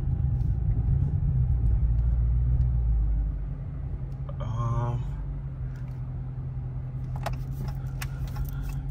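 Steady low engine rumble from inside a Dodge Scat Pack cruising city streets at night, loud and continuous, with a brief jingle of keys or rattle midway.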